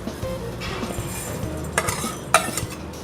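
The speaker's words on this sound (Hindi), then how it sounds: "जो आपने मसाले निकाले हैं ना, उनको भूनना है" Whole spices dry-roasting on a tawa while being stirred, giving a steady close scrape and rattle with light metallic clinks and two sharper knocks near the end.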